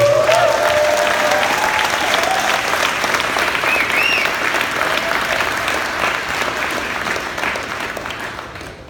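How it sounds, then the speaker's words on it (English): A gala audience breaks into a full round of applause, dense and sustained, filling the room loudly before gradually tapering off toward the end. "Can we give our young people another round of applause?"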